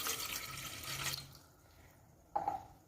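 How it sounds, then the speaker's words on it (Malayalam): Water from a glass splashes into a cooking pot for a homemade natural hair dye, a bright pouring gush that stops after about a second, followed by a quiet pause and then a short clink and splash. "അതിലേക്ക് ഞാനിവിടെ 1 ഗ്ലാസ് അളവിൽ വെള്ളം ഒഴിച്ചു കൊടുക്കുന്നുണ്ട് കേട്ടോ."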